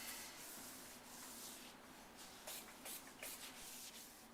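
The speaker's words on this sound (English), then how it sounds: "Now we finished buffing off number 4 with the microfiber towel." A microfiber towel buffs stone sealer residue off a granite countertop, giving soft, faint rubbing swishes in a steady back-and-forth rhythm, close and without speech.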